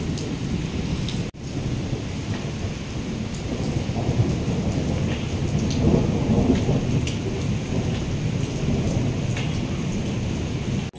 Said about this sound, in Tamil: எப்படி இடி இடித்து மழை பெய்யுது பாருங்கள்